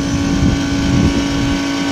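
A Lennox packaged rooftop unit motor runs with failed bearings, giving a continuous loud, droning hum with a steady tone over a rough, uneven rumble and no talking.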